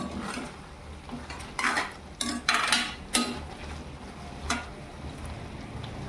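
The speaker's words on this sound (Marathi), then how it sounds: "सगळं आपण मिक्स करून घेऊ बघा" Spoon scraping and clinking against a pan while stirring a raw papaya halwa mixture, a few irregular knocks and scrapes close by over a low background.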